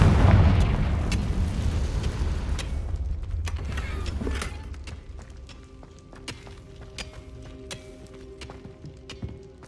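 A fiery Confringo spell blast in Hogwarts Legacy, with a loud rumbling boom that fades over several seconds, followed by scattered crackling debris and small clicking ticks.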